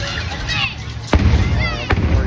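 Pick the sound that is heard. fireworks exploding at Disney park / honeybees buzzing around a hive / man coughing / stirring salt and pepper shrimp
fireworks exploding at Disney park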